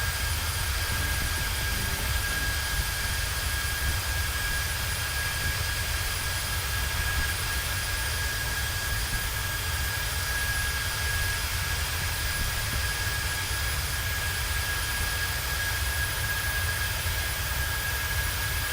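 The jet engines of a Boeing 737-800 roar at takeoff in a flight simulator game, giving a steady, loud, unbroken rumble with a sustained high tonal whine over it, with no voices throughout.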